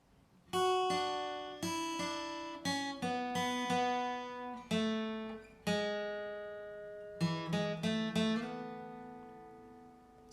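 Guitar riff from the pre-chorus of a song, a run of picked notes and ringing chords in a loose, repeating pattern, played close and clean with no talking.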